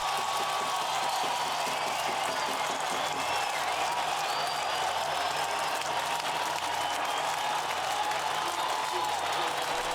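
Applause for a minister, a steady wash of many hands clapping at moderate distance that holds unchanged for about ten seconds, with faint talk underneath.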